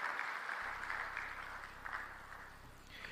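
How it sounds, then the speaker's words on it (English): An audience at a coffee-producing nations' meeting gives a round of applause, a faint, steady wash of distant clapping lasting a few seconds. "Can we once again put our hands together?"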